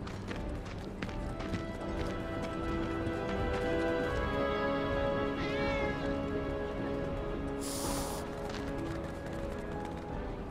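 A cat meows in Final Fantasy VII Remake against a steady bed of game music and ambience, with a few short, moderately loud cries over about ten seconds and no talk.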